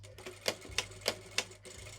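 A sewing machine stitches along the bottom edge of a curtain in short, evenly spaced clicking needle strokes over a low motor hum, heard close and fairly quiet.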